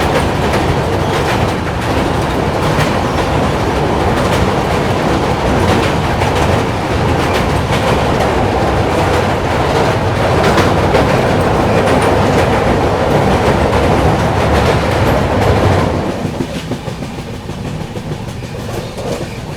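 The Pune AC Duronto Express rolls steadily along the rails with a continuous rumble and clatter, loud and close, easing off slightly near the end.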